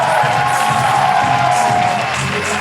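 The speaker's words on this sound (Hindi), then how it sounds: "प्लीज और जोरदार तालियों से स्वागत किया जाए" A live comedy roast audience cheers and whoops loudly to welcome Uorfi Javid, a continuous dense crowd roar with a few voices rising above it.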